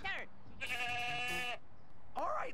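A goat bleats from the Ed, Edd n Eddy video game, a long wavering cry in the middle with shorter bleats at the start and end over low background noise.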